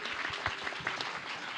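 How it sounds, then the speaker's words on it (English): Audience applause at a library talk, a brief burst of scattered clapping with distinct individual claps, fairly faint and distant. "Applause"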